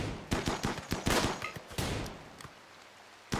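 Gunfire in a video game colony battle, a rapid series of sharp pops in quick bursts with a few isolated shots toward the end, close and fairly loud with no talk over it.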